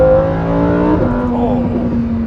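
A Lamborghini Huracan EVO engine revs hard toward 8,500 RPM, a loud, close, rising howl that shifts pitch partway through and then settles into a steady high drone.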